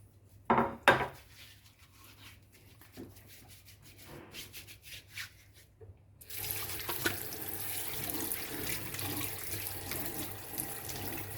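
Hands are washed at a kitchen sink, with soft rubbing and faint dish clatter before a running tap gushes steadily and continuously for the remaining seconds.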